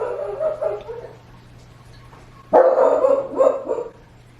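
A dog barks in two bursts of rapid, close barks separated by a quiet pause, with a low steady hum underneath.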